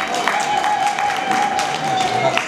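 A crowd claps for the BCC church choir at a thanksgiving celebration for a deacon, with a sustained patter of applause. A steady high tone and voices run through it.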